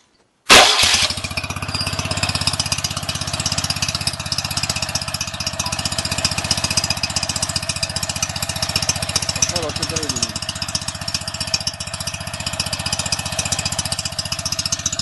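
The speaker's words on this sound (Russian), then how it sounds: "сейчас пускаем двигатель" A UD-25 tractor engine running on a K-16M carburetor fires up abruptly and settles into a steady, loud idle that keeps a constant rumbling chug with no pauses. A voice speaks briefly over the engine.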